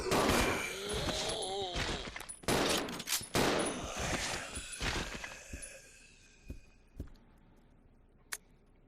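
Gunshots in the video game Resident Evil 0 crack out in a loud cluster of sharp blasts, then thin to a few isolated, fainter reports that fade into quiet.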